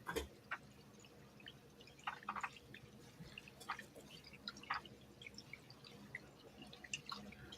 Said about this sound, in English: Yeah, there is running water.